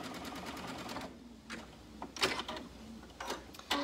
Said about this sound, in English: now we're gonna sew up the inseam